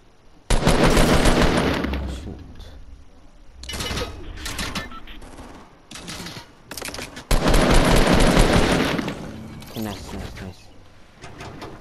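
Rapid video game gunfire in long, dense automatic bursts separated by quieter stretches, with a person talking over the shooting.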